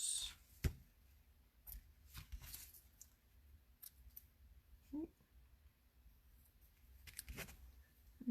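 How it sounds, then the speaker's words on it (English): Scissors cut paper for a fun fold book card at a quiet crafting table, with a few soft, separate snips and short rustles spread out between long near-silent pauses. "Scissors."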